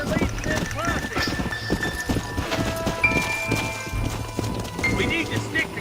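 Horses gallop in the Red Dead Redemption video game, a quick rhythmic clip-clop of hooves with a brief whinny, heard under a man's spoken dialogue.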